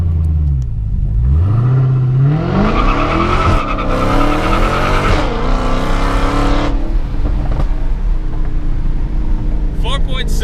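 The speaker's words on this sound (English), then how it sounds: "So now let's skip to the best run with the stock tires." A Dodge Hellcat on stock street tires launches for a drag run. Its engine roars loudly and climbs steadily in pitch through the gears, close and continuous, then fades with a brief squeal at the end.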